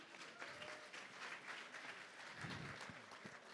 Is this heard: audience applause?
yes